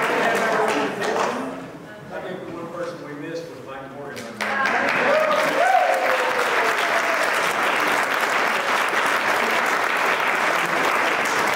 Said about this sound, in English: I want you to give them one more round of applause